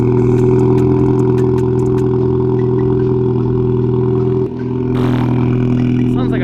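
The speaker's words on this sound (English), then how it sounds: "I'm gonna start the car and get the heat on because it is a little cold." A car engine idles with a steady, rough, tractor-like rumble and a clattering mechanical chatter, loud and close throughout on a cold morning, with a brief dip and some higher rattling near the end.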